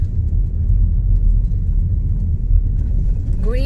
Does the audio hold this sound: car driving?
yes